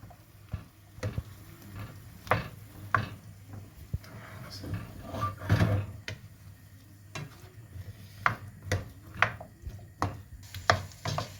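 Vegetable stir fry being stirred and tossed in a pan, with repeated sharp scraping and clacking of a utensil against the pan in an irregular rhythm, close and fairly loud over a low steady hum.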